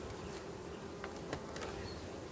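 Honey bees buzzing in an opened hive colony with a blocked brood nest: a continuous close hum with a few louder passes of single bees flying near, and no voices.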